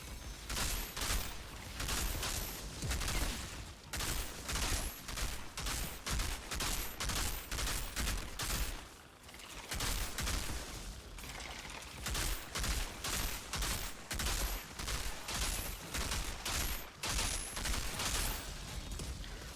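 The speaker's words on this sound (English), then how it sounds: "Damn mortars." Mortar and weapon fire in the Outriders video game, a dense run of rapid explosive bursts and shots repeating almost without pause, loud and close, with a brief lull midway.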